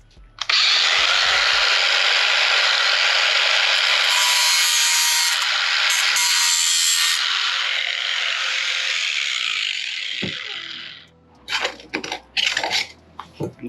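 An angle grinder cuts off leftover exhaust pipe metal on an 8.1 Suburban during a custom muffler delete, a loud steady high whine running about ten seconds before winding down into scattered clanks and scrapes.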